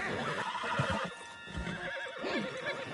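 A horse whinnies and neighs in Red Dead Redemption 2, with a few clip-clops of hooves, heard over a steady game soundscape with no speech.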